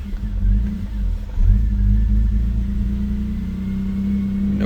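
A BMW E93 528i engine with a rough idle rumbles close by, its low uneven drone swelling in a brief rev before settling back to an unsteady idle.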